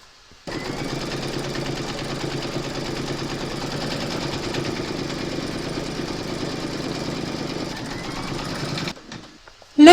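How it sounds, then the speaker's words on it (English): An embroidery machine stitches a sunflower coaster, running a steady fast mechanical chatter of the needle that stays loud and even for about eight seconds, then stops. "Pop your hoop into your machine and stitch round number 3, and that's going to secure the fabric and then quilt it."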